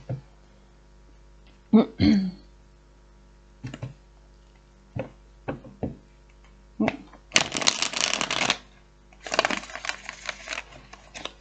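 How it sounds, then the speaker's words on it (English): Tarot cards are shuffled in two long riffling bursts, preceded by scattered taps and handling noises, with no talking. "One more shuffle."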